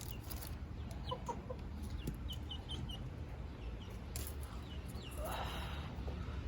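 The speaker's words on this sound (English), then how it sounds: "you silly chickens" Backyard chickens in a Texas summer garden clucking faintly at a distance over a steady low background hum, with scattered short calls and no talk.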